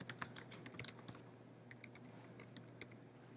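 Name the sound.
typing on a computer keyboard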